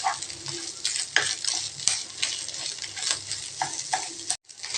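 Egg and ladies finger (okra) stirred quickly in a frying pan, a steady close sizzle broken by repeated scraping strokes of the spoon, continuous for several seconds.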